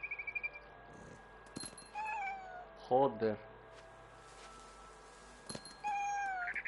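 A cat meows in the video game What Remains of Edith Finch, a few short meows spread across the stretch, mid-loud, with someone talking over parts of it.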